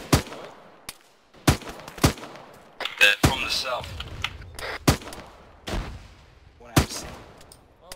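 Gunfire in a military video game, sharp single shots and short bursts cracking at irregular intervals, some close and loud, with a voice speaking briefly between them.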